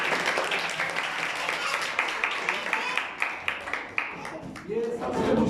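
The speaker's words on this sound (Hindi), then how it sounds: "तालियां बजाएं जी इसके लिए" An audience claps for an award recipient at a Christmas Day church gathering with children. The rhythmic clapping runs loud and steady, then tapers off while a voice speaks over it.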